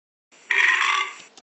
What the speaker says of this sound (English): Stop burping, Ben.